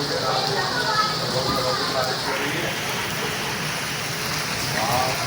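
Heavy rain pours steadily in Karachi, a dense continuous hiss of drops striking surfaces that stays loud throughout, with voices and street activity mixed underneath.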